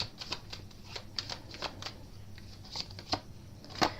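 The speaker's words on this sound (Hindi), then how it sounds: "फिर भी हम एक कार्ड जरूर निकालेंगे इसके लिए।" Tarot cards shuffled and drawn from the deck, a close run of crisp irregular riffling flicks and soft slaps with no voices.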